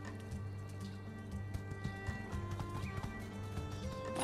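Horse hooves gallop across game terrain in My Time at Sandrock, a steady run of quick repeated clops over a constant background music drone, with an occasional whinny-like accent and no talking.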